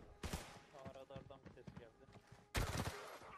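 Gunfire in the shooter game Arena Breakout, a loud burst near the start and another near the end, with a P90-style weapon; people talk over the quieter middle stretch.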